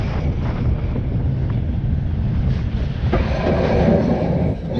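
The Blue Hawk steel roller coaster at Six Flags Over Georgia, running smoother with new trains, roars along its track in a steady rumbling rush mixed with buffeting wind noise from a rider's position.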